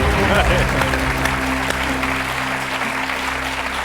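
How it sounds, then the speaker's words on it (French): Studio audience applause on a French TV quiz show, steady and fairly loud clapping across the whole stretch, with a low musical hum beneath it. "Je me permets d'applaudir Pierre-Marie."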